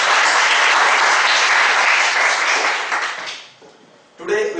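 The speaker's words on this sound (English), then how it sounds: "Let us welcome them with a big round of applause." A speakers' forum audience claps loudly and steadily to welcome new members, a dense sustained round of applause that tapers off before a voice begins speaking near the end.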